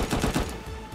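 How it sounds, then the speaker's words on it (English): Gunfire in the survival video game Unturned bursts in a rapid series of loud, close shots, several cracks in quick succession within a second. "very loud shots going on around here"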